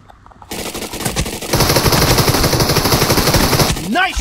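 Automatic gunfire in PUBG Mobile rattles out in fast, loud bursts, starting after a short quiet moment and swelling into sustained rapid fire, with a brief voice near the end.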